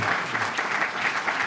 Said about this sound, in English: So please, a big round of applause for David Cataletto.